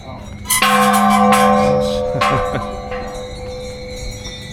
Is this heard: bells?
yes